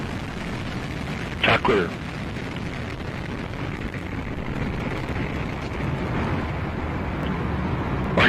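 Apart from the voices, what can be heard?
Atlas V rocket launch carrying Lucy mission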